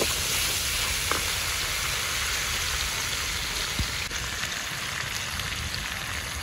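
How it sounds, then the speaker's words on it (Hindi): Red chillies hit hot oil in a village kitchen pan, giving a dense, steady sizzle and crackle that fills the whole clip at close range, with an occasional faint clink, and no voices. "अब इसके अंदर हम लाल मिर्चें डालते हैं।"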